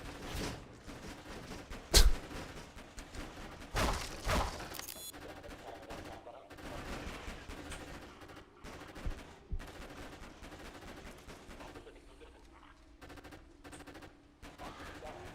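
Gunfire in a Half-Life 2 style Korean cyberpunk video game, with a few sharp, loud shots standing out over quieter game noise, and scattered smaller reports following.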